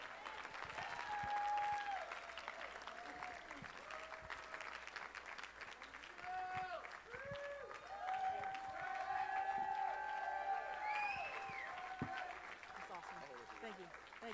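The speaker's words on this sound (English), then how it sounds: "Big round of applause, please, for Michelle Portilla." Audience applause at an awards ceremony in Orlando, steady clapping from a large crowd that holds throughout with some cheering mixed in, while a voice talks over it.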